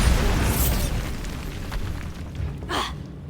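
Blasting spell explosions in the Hogwarts Legacy video game, set in a mine: a booming burst near the start and a second blast toward the end, over a steady rumbling game background.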